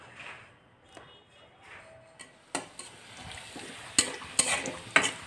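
Onion, garlic and dried chilli fry for a tempering, giving a soft sizzle broken by sharp scrapes and clinks of a spoon stirring against the pan.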